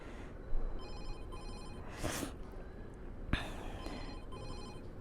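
A phone repeatedly sounding a food delivery app's order alert, a bright electronic ring pattern playing over and over at moderate volume, with a couple of louder brief knocks in between.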